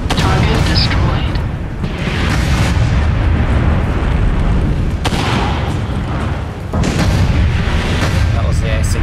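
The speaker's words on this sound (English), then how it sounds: "That was the AC-20 going off." AC-20 autocannon firing in MechWarrior 5: loud, booming heavy cannon blasts with rumbling impacts in a dense battle mix, while a voice talks over the action.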